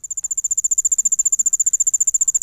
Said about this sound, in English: now we're on to the ground crickets.